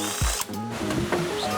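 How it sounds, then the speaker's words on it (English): Ratchet work loosening the E14 steering gear bolts on a BMW F30 335i with an N55 engine, heard as a short burst of tool clicks and metallic rattles close by, with no talking. "we can go ahead to loosening these two steering gear bolts"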